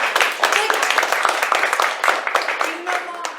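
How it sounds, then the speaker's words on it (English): A crowd in a talk or seminar audience claps steadily for a few seconds, dense overlapping applause near and fairly loud, with some voices mixed in. "Let's give them a big round of applause"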